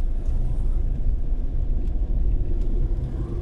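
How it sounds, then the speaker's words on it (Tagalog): Motorized tricycles pass along a road in Calauag, Quezon, making a continuous low engine rumble with a slight rise and fall as they go by, at moderate distance and with no voices. "More on tricycle dito."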